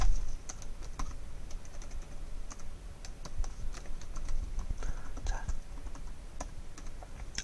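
Fingers type steadily on a computer keyboard, close up, with quick irregular key clicks and taps over a low background rumble.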